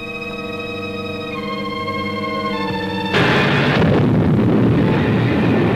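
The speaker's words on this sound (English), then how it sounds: "The orbit jet will be blown to bits." Orbit jet explosion staged as a radio drama sound effect: a sudden loud roaring blast breaks in partway through, over sustained organ-like tones, then rumbles on noisily to the end.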